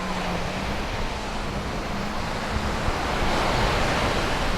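Sea waves wash steadily onto Jomtien Beach in Pattaya, Thailand, and gusty wind buffets the microphone, making a continuous broad, loud rushing surf sound.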